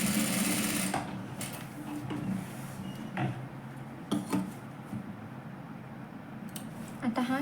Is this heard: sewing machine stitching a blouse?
yes